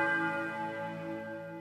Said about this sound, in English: A tolling church bell.